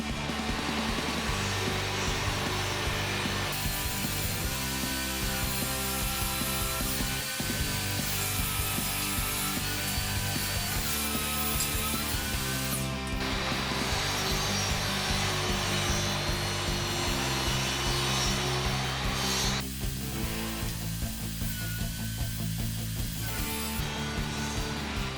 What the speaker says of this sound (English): So now I have all the 45-degree angle cuts for the box